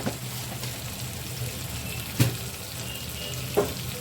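Chicken curry cooks in a pan, giving a steady sizzle and frying hiss throughout, with two brief louder clacks from a utensil being stirred; no one speaks.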